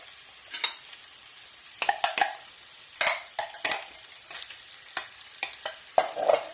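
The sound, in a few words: bacon bits and onions frying in olive oil in a pan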